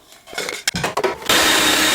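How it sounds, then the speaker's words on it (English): An electric food processor chopping onions whirs loudly and steadily after a few brief clatters and bumps, the motor running at full speed until it cuts off. "I'm going to make the onions finer in the food processor."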